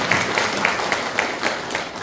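Audience applause at a lecture event, a moderate crowd clapping steadily, with one prominent rhythmic clapper cutting through at a regular beat.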